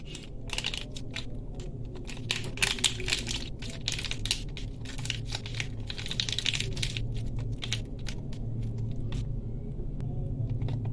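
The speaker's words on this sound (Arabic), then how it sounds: "هفضي هنا بقى كيسين بريل من ده" Two bags of Bril detergent powder being poured out, giving a steady close granular crunching and rustling with dense crackly bursts throughout, no voices.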